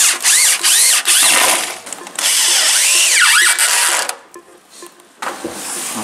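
Power drill driving 5x45 screws into a garden bench board, close loud whirring bursts that rise and fall in pitch as each screw bites, then stop, leaving brief quieter gaps.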